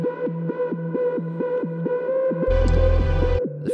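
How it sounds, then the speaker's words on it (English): Square-wave synth lead drenched in reverb plays a bouncing two-note pattern, alternating high and low in a steady pulse, with a deep bass tone joining near the end. "The first one is a square synth with lots of reverb"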